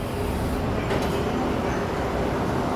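A Seoul subway Line 6 train rumbles through a station in a steady, moderately loud roar with a brief brighter burst near the middle, no voices over it.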